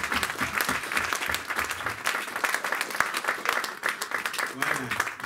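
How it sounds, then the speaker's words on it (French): A church congregation at a consecration service claps for a volunteer team, sustained dense applause throughout with a voice talking over it. "Acclamons pour cette équipe."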